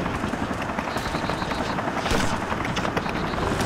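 Helicopter in the ARMA 2: Operation Arrowhead military game, its rotor thumping loudly and steadily throughout as a close, continuous wash of noise, with brief voices underneath.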